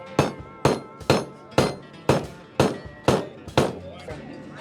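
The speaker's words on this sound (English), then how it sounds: "Use that hammer, hit it down." Seven loud, evenly spaced hammer blows ring out close by, each a sharp metallic strike with a short decay, driving a hammer head onto its handle.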